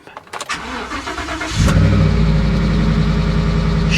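A 1985 Chevy El Camino SS cranks briefly with a few uneven turns, then catches and settles into a loud, steady, rumbling idle through the exhaust, close by and with no voices.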